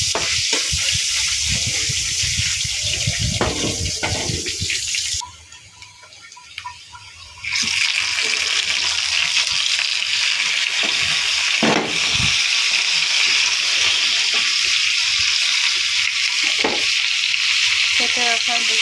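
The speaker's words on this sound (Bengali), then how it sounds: "রসুন আর পেঁয়াজটা ভাজা হয়ে গিয়েছে" Whole garlic cloves and chopped onion frying loudly in hot oil in a pan, a dense, continuous sizzle close by that briefly drops away then returns just as strong, with no talk.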